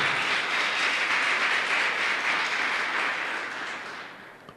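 A church audience applauding: a dense, steady roar of many hands clapping together, loud and sustained, then gradually tapering off at the end, with no voices over it.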